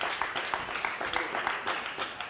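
Studio audience on an Italian television show applauding, a fairly faint, steady patter of clapping with light rhythmic peaks, sustained briefly throughout.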